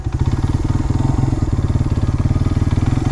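A Honda XR100 motorcycle, unstarted for 17 years, runs close by with a loud, steady, rapid single-cylinder thump, the even pulsing holding through the whole stretch without speech.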